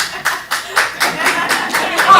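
An audience at a comedy showcase claps in short rhythmic bursts, about eight sharp beats at an even pace, fairly loud and near, with a little chuckling mixed in.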